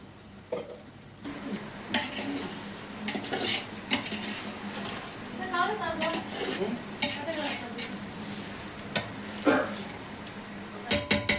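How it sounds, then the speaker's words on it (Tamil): Chicken for a two-kilo chicken biryani is stirred in a metal pot: irregular scraping and clanking of the utensil against the pot over a faint sizzle, with several sharp clinks. "சிக்கன் சேர்த்து ஒரு பெரட்டிட்டு"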